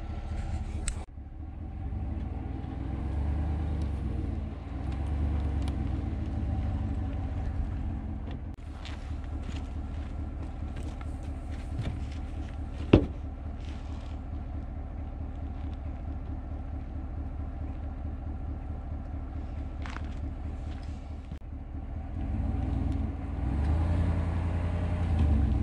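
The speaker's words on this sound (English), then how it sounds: "I'm gonna back up the truck, I'm gonna put down my 2x4s, I'm gonna drive up onto them" A truck reverses and drives up onto 2x4 boards laid down to level a holiday trailer, its engine a low steady rumble at idle with faint wind noise and a brief thump midway, no voices.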